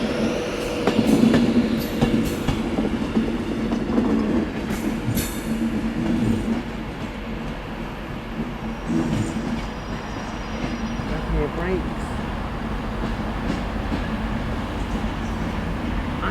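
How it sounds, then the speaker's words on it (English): A Class 185 diesel train rumbles past close by at Manchester Piccadilly, with engine drone, rolling wheel clatter and occasional squeals of metal on the rails throughout. "I can also hear the sound of the 185."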